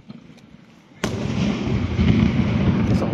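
Fireworks launched by a Piroshow firing system at a display in Giarratana. Quiet ambience gives way to a sudden loud burst, followed by a sustained roaring crackle of continuous firing.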